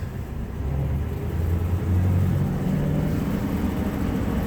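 A 1969 Ford Bronco half cab drives in four-wheel low, its engine a steady low rumble with a slight swell midway, heard from inside with no talk.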